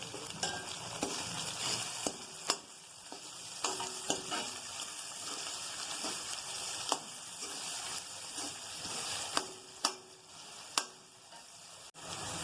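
Onions, green chillies and curry leaves sauté in a pan with oil, a steady broadband sizzle broken by frequent sharp scrapes and taps of a stirring spoon, close up with no voices.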